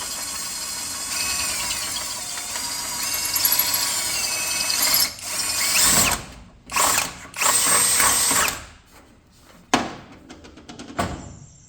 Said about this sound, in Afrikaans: hy boor vir die gaatjies.